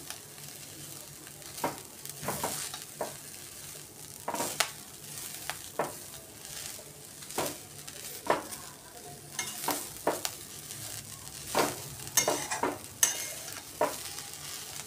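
Chopped coriander is stirred into a sambar wadi filling, with repeated soft scraping and stirring strokes in an irregular rhythm over a quiet, steady background hiss.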